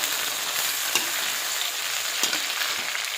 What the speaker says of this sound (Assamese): এইখিনি মই এতিয়া লৰাই লওঁ অলপ।